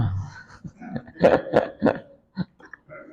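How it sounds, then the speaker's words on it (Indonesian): A series of harsh, close coughs and throat-clearing sounds in quick succession, with short pauses between them and no talking. "Jadi ini saya dari tadi batuk-batuk."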